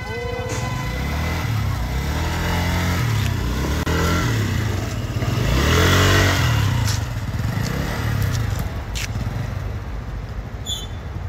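A motorbike engine revving and accelerating up close, loud and sustained with rising and falling pitch sweeps and some clattering, while people talk over it.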